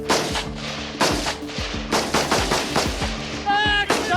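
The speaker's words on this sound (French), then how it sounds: "Pour augmenter le réalisme de l'exercice, les gendarmes vont tirer à balles réelles." Live-round gunfire from gendarmes of the GIGN during a training exercise in French Guiana: loud, close bursts of rapid automatic shots with sharp repeated cracks and booming echoes, pausing briefly between volleys.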